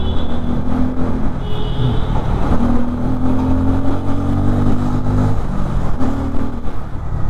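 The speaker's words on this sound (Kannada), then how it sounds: "ಎಕ್ಸಾಸ್ಟ್ ನೋಟ್ ಮಾತ್ರ ನನಗೆ ಸಖತ್ ಇಷ್ಟ ಸಖತ್ ಸಖತ್ತಾಗದೆ ಸೌಂಡ್ ಮಾತ್ರ" A Bajaj Pulsar N250 motorcycle (2024 model) is ridden with its exhaust note loud and close, a steady throbbing drone that rises and falls with the throttle and shifts pitch between gears.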